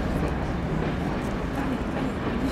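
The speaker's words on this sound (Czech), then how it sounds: "A už jede, vláček." Steady rumbling roar of a train passing close by, a dense continuous rush with no pauses across the whole stretch.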